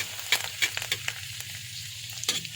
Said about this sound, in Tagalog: Igisahin na natin yung bawang